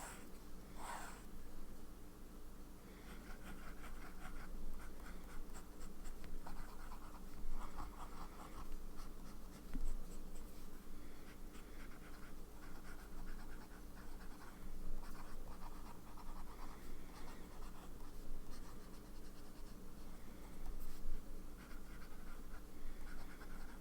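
A TWSBI Mini fountain pen with a medium nib writes on paper in soft, close scratching strokes with brief pauses, against quiet background noise.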